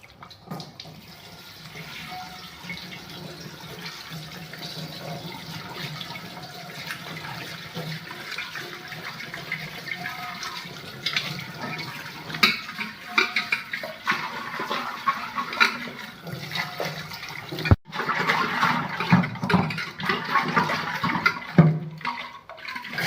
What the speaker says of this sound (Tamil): இப்போ தண்ணியில் சுத்தம் பண்ணிக்கலாங்க